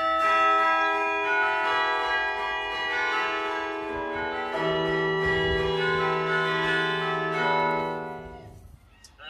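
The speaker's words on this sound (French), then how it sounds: "c'est le son de notre carillon." Carillon bells ring out a melody from a tower, overlapping tones sustaining and blending as successive notes strike, loud and resonant, then fading near the end.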